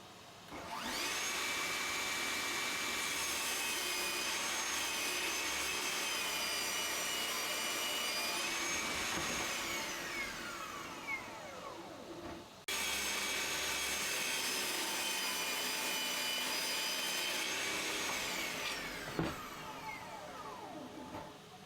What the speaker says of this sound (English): I'm going to set up the table saw and get a bit of that MDF cut to the exact size of the bandsaw base.